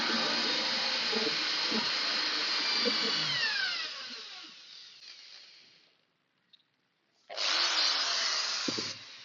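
A power drill bores a 13.5 mm hole into a kitchen cabinet panel with a loud, steady whine that shifts pitch as it cuts, then stops and falls silent before a second burst of drilling starts up, with no talking.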